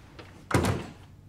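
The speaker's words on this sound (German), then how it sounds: "Tür zu!" A door swings shut with a single solid thunk, close and fairly loud, preceded by a faint shuffle and followed by a short fading tail in a quiet indoor room.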